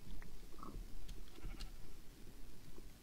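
In Minecraft, a sheep gives a faint, brief bleat amid quiet, rustling game ambience.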